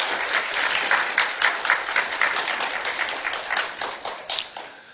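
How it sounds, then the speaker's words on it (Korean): A church audience at a parents' education gathering gives sustained thanks applause, steady many-handed clapping for several seconds that thins out toward the close. "우리 박상용 목사님께 감사의 박수를"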